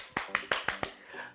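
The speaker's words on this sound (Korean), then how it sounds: "우리 모두 박수!" Students clapping in a classroom, five sharp handclaps in unison at a steady rhythm, close and fairly loud, followed by a brief quiet tail.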